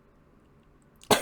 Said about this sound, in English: If I'm not yawning, I'm coughing on air.